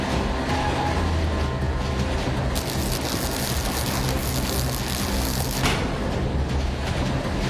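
A cartoon train rumbles along the rails in a continuous loud, dense roar, with steady clatter and a couple of brief bright bursts partway through.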